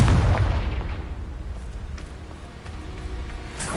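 A fiery blasting curse detonates in a wizard video game, a low booming burst at the start that decays into a rumbling tail, with several lighter pops through the rest.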